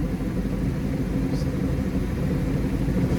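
A 2008 Bayliner 185 boat engine runs steadily while being shifted into forward gear, a continuous low rumble with no clear break, alone without talk.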